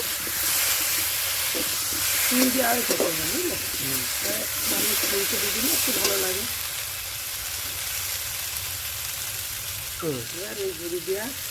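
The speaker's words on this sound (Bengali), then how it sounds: "মশলা আর আলু ভালো করে মিশিয়ে নিতে হবে" Spice paste and yam sizzle and hiss in a pan while being stirred for a potato curry, a steady frying texture running under intermittent speech.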